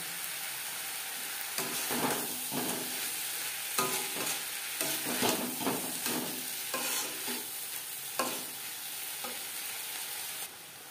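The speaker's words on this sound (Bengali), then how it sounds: "চিকেন বেশ ভালো করে মিক্সড করে দেব।" Chicken patty filling is stirred and mixed in a pan over heat, giving repeated scraping strokes over a steady sizzle, close and moderately loud, with no talking.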